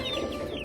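Chickens in a mobile A-frame coop pen cluck briefly, a short close burst of fowl calls with no talk.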